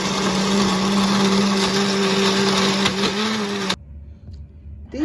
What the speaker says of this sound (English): let's just look over and see how the blending goes